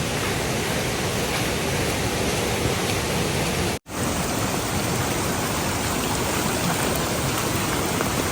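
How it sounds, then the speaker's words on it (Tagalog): Heavy rain pours on a mountainside, a dense, loud, unbroken hiss filling the whole stretch apart from one instant dropout, with no talking. "Ayan, bumuhos na ulit yung ulan."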